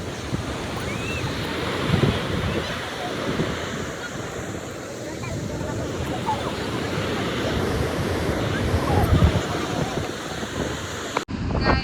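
Steady broadband roar of rushing water at Thoseghar waterfall, loud and continuous throughout, with gusty wind buffeting the microphone; cuts off abruptly near the end.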